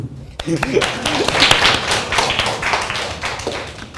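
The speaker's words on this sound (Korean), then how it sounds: "박수" A small group claps after a wireless charging system demonstration, with sharp, uneven close claps and taps mixed with voices talking over them.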